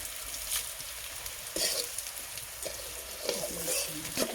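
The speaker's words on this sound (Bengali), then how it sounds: "এটা বেশ ভালোভাবে নাড়াচাড়া করে ভেজে নেব।" Half-fried onion cooking in a pan with two bay leaves and whole garam masala, a soft continuous sizzle broken by several spoon scrapes and clinks, close and fairly faint, no voices.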